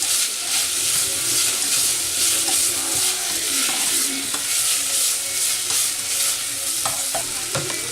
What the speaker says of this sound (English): Then give this a good stir.